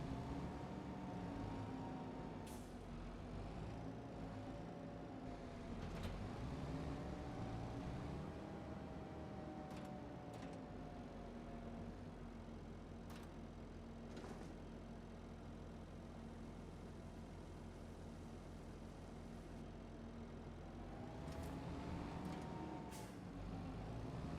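A farm vehicle in Farming Simulator 25 drives to the field with a spreader hitched, a steady engine drone with rising and falling revs, a few short sharp hissing bursts like air releases scattered throughout.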